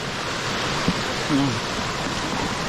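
Steady rushing water flowing continuously into a rice paddy after rain, a dense close wash of noise with a faint brief knock partway through.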